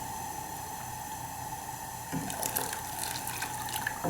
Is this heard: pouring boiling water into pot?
yes